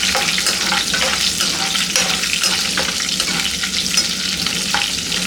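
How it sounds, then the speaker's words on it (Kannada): Green and dried chillies fry gently over a low flame, giving a steady, soft sizzle close by with a few faint stirring clinks, and no one speaking. "ಈಗ ಇದನ್ನು ಲೋ ಫ್ಲೇಮಲ್ಲೇ ಫ್ರೈ ಮಾಡ್ಕೊಳ್ಳೋಣ."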